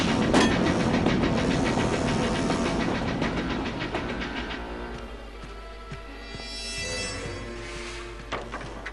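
A train rushes along the tracks in an animated chase, loud and close, with rapid rhythmic clickety-clack and rumbling engine noise that eases slightly toward the end, with a hissing rise near the finish.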